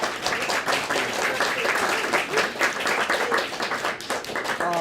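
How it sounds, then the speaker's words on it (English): An audience claps at the close of a literary conversation event, with dense, steady applause for about five seconds before it thins out near the end. "One more round of applause for Amit and James."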